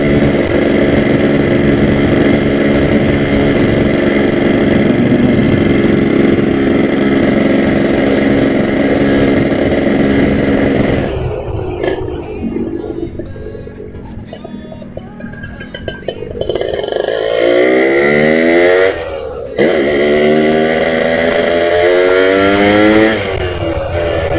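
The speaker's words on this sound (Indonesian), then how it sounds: "Kalau bawa motor ini bawaannya nggak bisa pelan guys, tapi saya usahakan sepelan mungkin ya" A Yamaha RX-King two-stroke motorcycle engine rasps loudly and close while riding, its pitch rising and falling through gear changes, with a brief dip around the middle before it pulls hard again.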